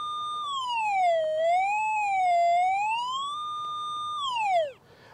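An XP Deus II metal detector sounds a clear electronic tone over a buried target, its pitch sweeping down and up in smooth waves, holding steady, then gliding sharply downward before stopping.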